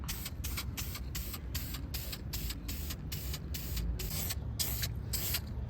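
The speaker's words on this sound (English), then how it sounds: "let me start putting some primer on these drums and calipers" Primer is sprayed from an aerosol can onto brake drums and calipers of a Honda Acty in a rapid series of short bursts, each a close, loud hiss with brief gaps, continuing steadily without any talking.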